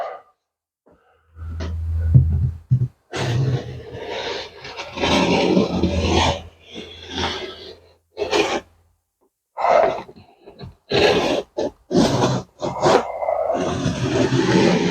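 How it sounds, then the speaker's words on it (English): A Dremel rotary tool cuts a slot into an MDF slot-car track, giving irregular rasping, grinding bursts separated by short pauses, close and fairly loud, with a low hum at the start. "Next we get the dremel."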